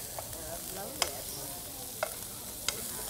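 Shrimp searing in a pan at an outdoor market cooking demo, a soft continuous sizzle punctuated by a few sharp clicks and taps of a utensil against the pan.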